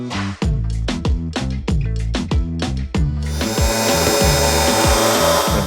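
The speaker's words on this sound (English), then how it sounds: "I'm gonna drill 50 million holes in this thing" Power drill boring holes through the metal frame of a homemade go kart: a loud, close rhythmic series of short whining bursts starting and stopping, then a sustained, steady high-pitched drilling run, no voices.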